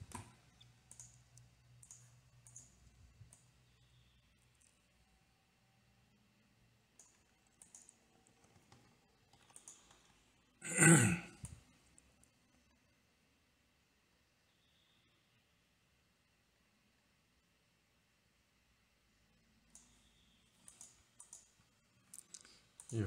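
A computer keyboard is typed in short bursts of light clicking, with a loud rapid flurry of keystrokes near the middle and quiet gaps between, close and alone.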